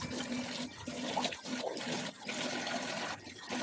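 Tap water runs steadily and close by during face washing in a home bathroom, with a constant low hum under the flow and a few brief splashy dips.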